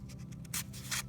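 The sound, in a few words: scissors poking a hole in a frame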